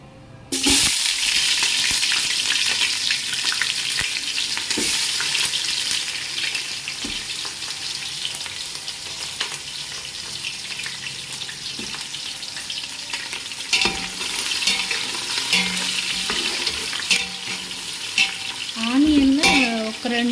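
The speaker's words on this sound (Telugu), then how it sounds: "వేసుకొని ఫ్రై చేసుకోవాలి. ఆనియన్ వేసుకుందాం ఫ్రెండ్స్." Onions sizzle and fry in a pan for chicken biryani, a steady hiss with occasional stirring scrapes, plus a brief trickle of water near the end.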